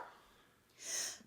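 One short, soft sneeze bursts out close by near the end of an otherwise quiet moment.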